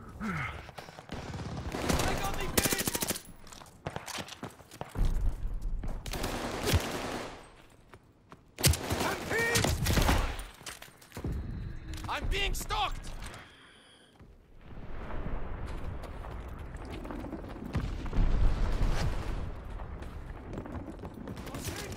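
Grenade explosions and gunfire in the World War II shooter Call of Duty: Vanguard: repeated bursts of rapid firing and heavy blasts with mechanical clatter between them, mixed with shouted voices.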